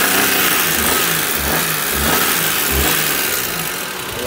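A 2003 Daewoo Matiz engine revs up and down in repeated bursts, a steady mid-pitched motor rising and falling close by with no talk.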